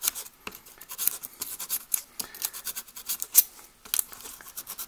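A small file rasps across the cut end of an HO scale model railroad rail, quick irregular scratchy strokes close by and fairly faint, with no talk.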